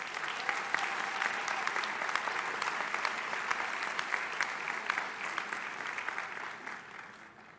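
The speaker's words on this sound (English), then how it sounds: "Let's give them one more round of applause." A large commencement audience gives the Symphonic Band a sustained round of applause, dense and even throughout before tapering off at the very end; no one speaks over it.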